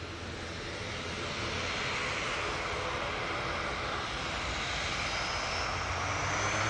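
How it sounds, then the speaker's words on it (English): An Airbus A380 comes in to land at Manchester Airport, its engines a steady, loud broadband roar that holds and builds slightly throughout, with no talk. "the A380 is coming in"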